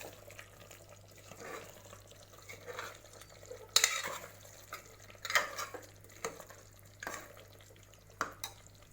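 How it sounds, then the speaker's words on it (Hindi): A spoon stirs chicken curry with garam masala in a pot: quiet scraping and wet clinks, with a few sharper knocks against the metal, close and soft, and no voices. "इसको हम अच्छे से मिक्स कर देंगे गरम मसाले को"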